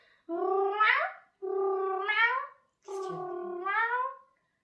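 Cat meowing and crying indoors: three long, drawn-out plaintive meows in slow succession with short pauses between, close and fairly loud with no talk over them.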